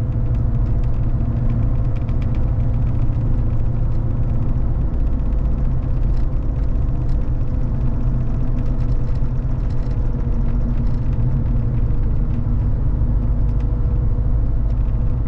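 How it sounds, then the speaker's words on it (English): Steady interior drone of a 1995 Ford Bronco XLT driving down the road, a constant low engine and road rumble filling the cab with no talk. "We're just gonna be taking it down the road, show you guys that it does run and drive,"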